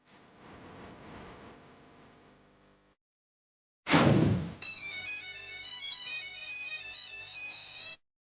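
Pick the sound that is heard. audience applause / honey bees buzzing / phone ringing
phone ringing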